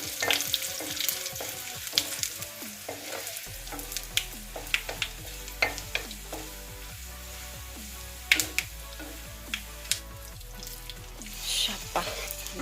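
Onions and dried red chillies fry in oil with a busy crackling sizzle of many quick pops, joined partway through by a steady low hum underneath.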